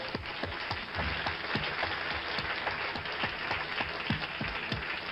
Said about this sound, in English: Now, I'll applaud.